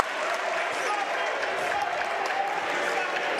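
Crowd noise and applause at a Hope vs. Wittenberg NCAA Division III men's college basketball game, a steady, broad cheering roar that holds throughout with no clear individual voices.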